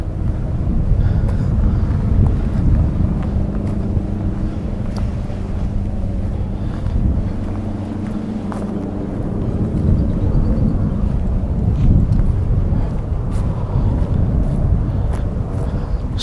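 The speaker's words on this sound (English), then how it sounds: "that's actually plane taking off from the Billy Bishop Airport" An airplane takes off from Billy Bishop Airport in Toronto, a broad low roar that swells and fades from a distance, mixed with wind buffeting outdoors on an island walk.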